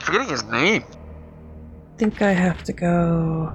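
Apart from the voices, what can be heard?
No distinct noise like a dog, phone or traffic.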